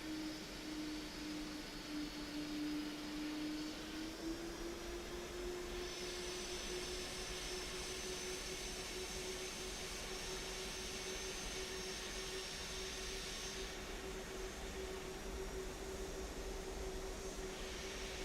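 Airbus A300 jet engines roar steadily through a takeoff roll in a flight simulator game, a constant loud broadband rush with a faint rising whine, heard alone.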